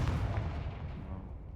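A Confringo fire spell in the Hogwarts Legacy game lets out a deep booming blast, a heavy rumbling burst that decays over about a second and a half.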